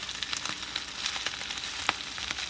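Shrimp shells and tails frying in hot oil, a steady close crackle and sizzle with small sharp pops scattered throughout, no voices.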